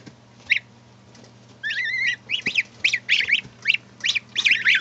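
Week-old goslings call in high, thin peeps and trills, several overlapping chirps in quick bursts over a low steady hum, fairly close.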